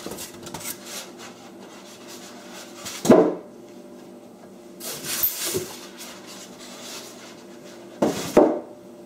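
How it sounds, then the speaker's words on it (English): Styrofoam packing pulled out of the box of a Ridgid oscillating edge belt spindle sander, giving three sharp squeaky rubs and scrapes between quieter rustling, close up. "let's take this styrofoam out and see what's beneath there"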